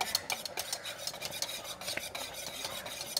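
A spoon scrapes and stirs no-bake cookie mixture at a rolling boil in a pan, close-up repeated rasping strokes against the metal with soft bubbling underneath.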